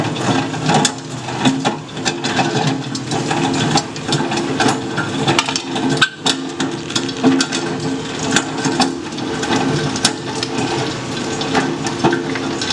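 An Adjustable Patriot Nut Cracker steadily cracking tropical almonds from Puerto Rico, a loud, busy stream of crunching shell snaps and rattling machinery, close and continuous, with no talking.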